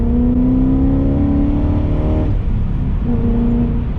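A BMW 540i E34 V8, running smoothly after a vacuum leak repair, hums loud and steady from close by, its pitch holding level then dipping briefly as the engine note shifts, with no talking.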